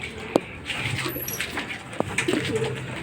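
Pigeons coo softly at a distance in a breeding loft during feeding, with a few low murmuring calls and scattered sharp clicks and knocks.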